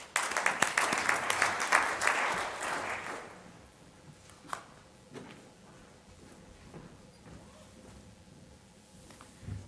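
Audience applause welcomes a speaker to the stage at the WMX Europe 2009 conference, a dense burst of clapping for about three seconds that fades into scattered claps and quiet room noise.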